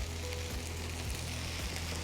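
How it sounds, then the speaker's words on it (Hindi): Fish pieces and curry leaves sizzle and fry in hot oil, with a dense, steady crackling sizzle and a low hum underneath, close and continuous throughout. "अब जैसे जैसे फिश पकेगी इसी तेल में ये कड़ी पत्ता भी बढ़िया से पक जाएगा"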